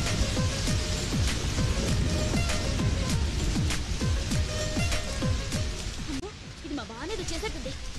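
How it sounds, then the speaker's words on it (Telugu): Steady rain pours down in a dense, unbroken hiss at close range, with scattered heavier drops, lasting the whole stretch and only thinning slightly near the end. "పైనుంచి వర్షం పడుతుంది"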